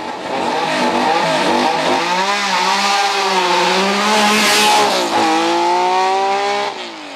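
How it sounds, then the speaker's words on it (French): A Porsche 911 RS historic race car at a hill climb, its engine loud and close, revving hard through rising and falling gear changes, with a strong roar held for several seconds and no voices. "Michel Torca d'abord, le vétéran du plateau sur sa Porsche 911 RS"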